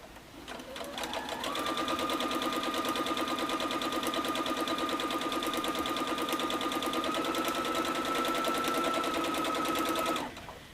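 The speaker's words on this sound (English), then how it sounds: "we're going to take this over to the machine and stitch these up" A sewing machine with a quarter-inch presser foot stitches quilting fabric for half-square triangle blocks, running in one steady, continuous whirring burst for about nine seconds before stopping.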